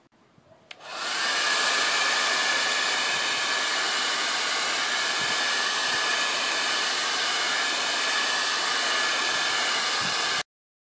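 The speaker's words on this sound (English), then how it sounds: "Plug in the blow dryer." A hair blow dryer switches on and runs as a steady, loud, close rushing whoosh to warm a skateboard deck's grip tape during a regrip, holding constant for about ten seconds until it cuts off.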